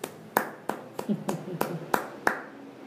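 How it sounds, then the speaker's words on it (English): A lone man stands and applauds at a show, slow single claps spaced evenly, about seven in a row, fairly close and distinct. "the man from the couple in the back stands up and applauds"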